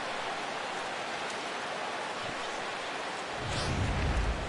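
Steady, dense rain hisses over a baseball game in MLB The Show 17, with a low rumble swelling near the end.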